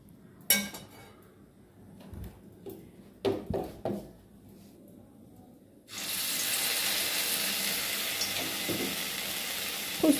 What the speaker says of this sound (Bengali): আর এদিকে তেল গরম হয়ে গেছে, বড়াটা করে নিই।